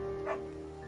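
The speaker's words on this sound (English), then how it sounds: "We gotta get the beagle and name him Bucket." A beagle in the video game Firewatch gives a single short bark-like yip near the middle, fairly soft against a steady game music or ambient tone.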